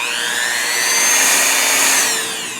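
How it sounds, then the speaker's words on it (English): A Dremel rotary tool cuts through baobab seed shells, giving a loud, steady high-pitched whine with a gritty grinding edge that swells slightly in the middle and eases toward the end. "Dremel, and I'm gonna cut these in half"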